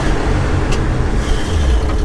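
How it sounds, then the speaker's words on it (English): An old Ford F500 barn-find truck engine runs steadily, with a continuous low rumble held at a constant level up close and no voices. "Well, guys, we got this thing running. It is so much fun to drive."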